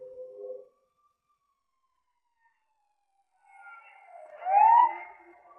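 An ambulance siren, heard in a Kannada television drama scene, rises in a short wailing sweep after a near-silent pause, moderately loud and slightly distant.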